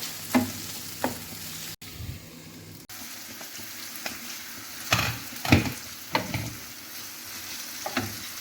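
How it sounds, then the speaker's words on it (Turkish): Steady sizzling of sausage frying in a pan for a vegetable omelette, with occasional scrapes and clinks of stirring, close up and without talk. "Bir 5 dakikada bunu kızartıyoruz. Ara ara karıştırarak."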